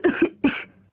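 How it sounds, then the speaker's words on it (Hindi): Three sharp coughs in quick succession, two close together and then a third after a brief pause, loud and near. "अरे इसे खांसी हो गई है,"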